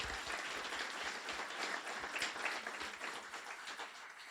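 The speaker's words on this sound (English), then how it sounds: "just a warm round of applause for a graduating class" A crowd applauds a graduating class at a guide dog school graduation, a steady, dense wash of many hands clapping at an even level throughout.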